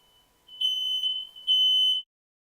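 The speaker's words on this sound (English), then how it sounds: "My fire alarm went off because there's something jammed in the toaster and they tried making toast." A home smoke alarm set off by toast burning in a jammed toaster, giving two loud shrill piercing beeps in close succession, then silence.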